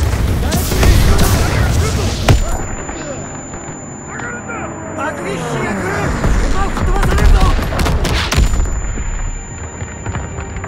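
Grenade blasts and rattling gunfire in a World War II battle in Call of Duty: WWII, loud repeated booms and bursts of shots with soldiers shouting over the combat.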